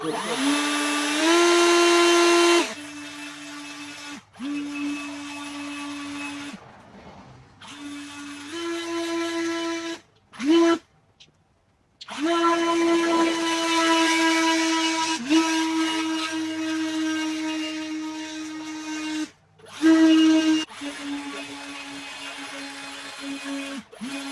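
An Ego battery-powered 21-inch Select Cut XP mower runs at variable speed, giving a loud electric motor whine. Its pitch steps up and down between speeds, broken by a few brief stops.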